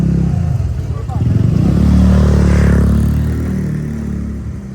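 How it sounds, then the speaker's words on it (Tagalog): A loud motorcycle engine idles and revs close by, a steady low rumble that swells and fades, with people talking over it. "maingay yung motor mo"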